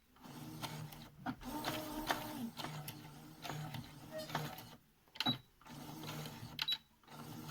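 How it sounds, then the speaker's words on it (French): A sewing machine stitches a fabric mask in quiet, intermittent mechanical whirring bursts with short pauses between runs, faint and close. "Après, je commence à coudre."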